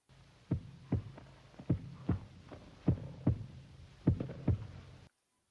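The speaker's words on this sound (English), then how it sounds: "It's her heartbeat." A thudding heartbeat sound effect from the Spanish horror film Tombs of the Blind Dead, with steady paired low beats over a faint hum before it cuts off abruptly.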